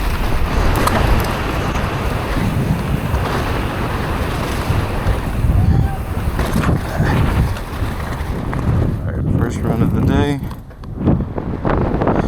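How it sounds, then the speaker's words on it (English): Strong wind roars and buffets against the microphone at a mountain bike park, a constant loud rush with gusty swells, while someone speaks briefly over it. "It's very windy."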